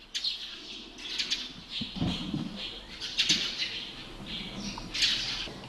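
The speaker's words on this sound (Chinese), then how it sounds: "Le lendemain, on est réveillé par les chants des oiseaux." Birds calling in the morning outside an old castle by the Li River, a steady wash of high chirps and squawks at moderate distance with occasional wing flaps, no voices.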